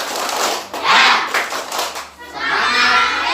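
A class of fourth-grade children claps a rhythmic 'tepuk semangat' cheer in a classroom, patterned bursts of hand claps mixed with shouted chanting voices, lively and close, with the group noise swelling and dipping.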